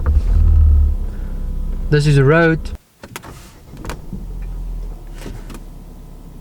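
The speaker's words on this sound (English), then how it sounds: "Now we're gonna start the car." A car engine starts after a short spoken remark, then settles into a steady low idle rumble; speech is heard before the start.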